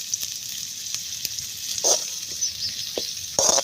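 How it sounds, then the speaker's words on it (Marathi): Onions frying in oil in a pan for Vidarbha-style palak paneer, a bright constant sizzle up close with brief thumps and scrapes from stirring. "आता हे कांदे टाकून घेतले आपण आता कांदे थोडेसे होऊ द्यायचे चांगले तेलामध्ये"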